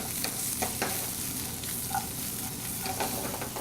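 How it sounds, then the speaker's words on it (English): Fish sizzles and crackles steadily in a hot frying pan during an outdoor cooking session in Ketchikan, Alaska, with occasional scrapes and clicks of a utensil over the constant, fairly loud hiss. "we're going to fry the fish"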